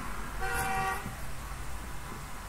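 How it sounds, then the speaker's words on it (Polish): A car horn toots outside, a short honk with a clear tone that rises above steady background noise and fades within about a second. "Zawsze gdy ja nagrywam, zawsze ktoś trąbi."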